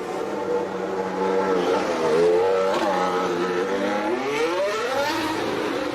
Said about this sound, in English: This is Claire Williams releasing Latifi from the pits for the Williams drivers for the last time